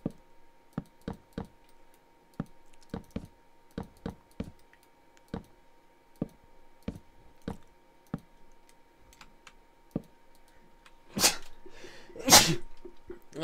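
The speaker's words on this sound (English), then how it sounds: "I didn't mean to sneeze all in your ears." A loud, close sneeze bursts out near the end, following a run of sharp, evenly spaced keyboard-like clicks while someone builds a small block tower.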